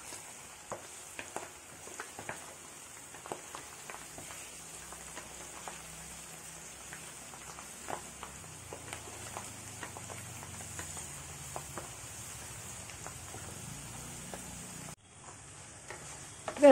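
Spices and garlic tempering in hot oil for an amla pickle, a steady, quiet sizzle with scattered crackles and pops that continues alone with no talking.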